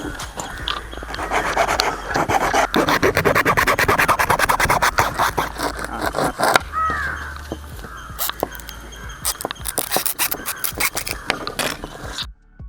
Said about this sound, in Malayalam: ഞാൻ ഇതിനൊരു ആക്സാ ബ്ലേഡ് എടുത്ത് ഇതിനൊന്ന് കട്ട് ചെയ്യാണ്